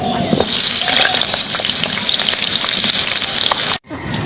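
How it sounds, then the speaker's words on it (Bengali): Potatoes frying in oil for chicken kosha, a loud, dense sizzle with small crackles and stirring that holds steady for several seconds and then cuts off abruptly. "তেল দিয়ে আলুটাকে প্রথম ভেজে নিই আলুগুলো দিয়ে দিই"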